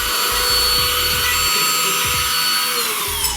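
A small handheld vacuum runs loud and steady with a high-pitched motor whine throughout.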